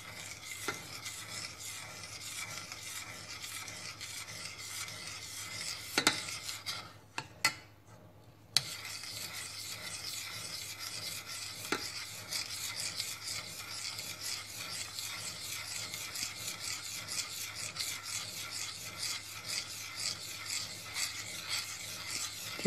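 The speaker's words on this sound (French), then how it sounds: "Remuez jusqu'à temps à ébullition. En tout remuant." A spoon stirs rice pudding with milk in a pot, making a continuous soft scraping and rubbing against the pan, a rhythmic near sound that pauses briefly partway through before resuming.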